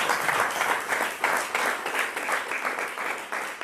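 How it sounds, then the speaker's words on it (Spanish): A church congregation claps and applauds steadily, a dense, loud, continuous wash of hands filling the whole stretch without a break. "Denle un aplauso."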